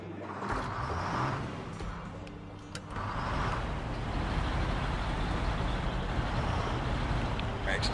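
A GMC truck engine in the SnowRunner video game runs steadily with a loud, continuous low rumble, with a few brief mechanical clicks and hisses on top.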